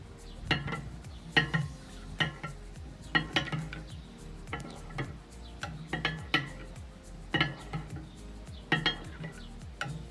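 A spoon stirs a kefir mixture in a bowl, with rhythmic clinks and scrapes against the bowl's side recurring about every second, fairly close and moderate in loudness, with no voices.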